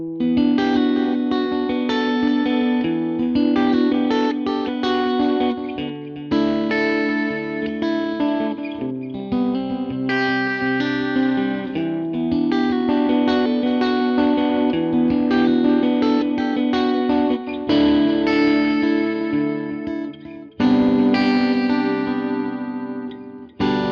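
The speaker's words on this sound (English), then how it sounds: "So I've got a Dunlop Echoplex in the effects loop." Electric guitar runs through a Dunlop Echoplex delay in the effects loop of a Fender Tone Master '59 Bassman combo amp, playing loud sustained chords and notes with repeating echoes trailing each phrase, alone without talk.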